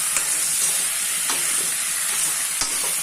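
Local chicken meat is tipped into onions already frying in a pan. A loud, even sizzle hisses throughout, with a few sharp clicks and pops.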